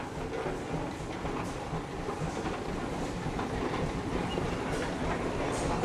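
A large steam traction engine runs at an outdoor pioneer show, giving a steady broad rumbling chuff with a mechanical clatter that holds level throughout and is heard from nearby.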